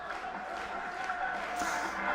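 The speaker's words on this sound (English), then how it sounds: "They're clapping, they're dancing." Crowd clapping in a wrestling arena in the video game WWE 2K18, a steady faint applause and murmur from the audience beneath a commentator's voice.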